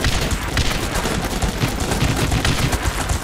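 Dense gunfire in the video game Guns Up, a loud, continuous barrage of overlapping shots and bursts with no pause, rattling close up throughout.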